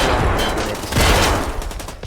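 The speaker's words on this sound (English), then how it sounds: "Gunfire goes off." Rapid gunfire bursts in Escape from Tarkov Arena, a tournament match, with dense overlapping shots and a fusillade of automatic fire filling the whole stretch, loud and continuous with no talk.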